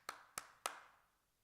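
Three sharp hand claps in quick succession, loud and close, each with a short ringing decay into a quiet room.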